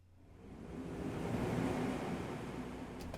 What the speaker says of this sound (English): It just sounds like a nice whoosh transition